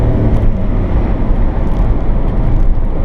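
1991 Honda Acty kei mini van engine wound up to about 7,000 RPM while rolling at speed, a loud, dense, buzzy drone mixed with road rumble, steady throughout.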